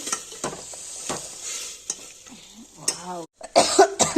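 Soft squishing and scraping of a utensil pressing fried tomatoes in a pan, with a faint sizzle and a few sharper clinks near the end.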